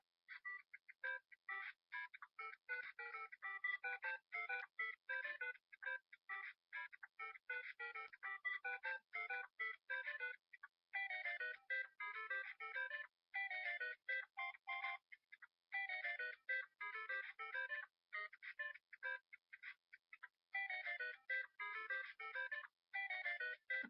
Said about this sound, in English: the next one is called the Super Mario Brothers theme